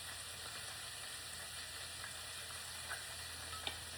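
Butter and honey stirred together in a hot pan, a soft steady sizzle with faint clicks of the utensil against the pan, quiet and continuous throughout.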